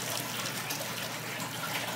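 A new hose nozzle spraying plain water over a golden doodle, a steady close hiss and splash of water running without pause.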